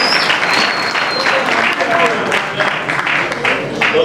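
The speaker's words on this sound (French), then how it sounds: "Merci, on peut applaudir." A crowd at an extraordinary UDPS party session claps continuously, loud and dense throughout, with a thin whistle-like tone near the start.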